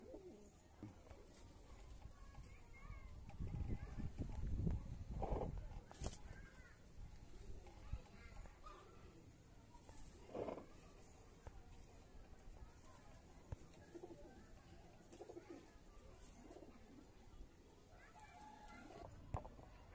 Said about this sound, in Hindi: ये रनिंग पर कबूतर है